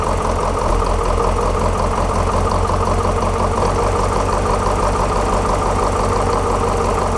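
A Detroit 8.2L diesel engine idles steadily near and loud, its low rumble surging gently up and down in speed throughout, with no talking.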